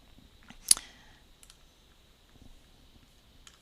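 A single crisp mouse click in Adobe Acrobat DC Pro, close and fairly loud, followed by a few fainter ticks over a quiet room.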